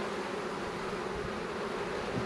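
Honey bees drone steadily in an open hive during a February brood nest inspection, a close, even buzzing hum with no pauses and no talk.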